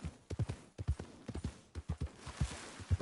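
Hooves of an Appaloosa horse clip-clop in Red Dead Online, a steady rhythmic trot of many close, soft footfalls.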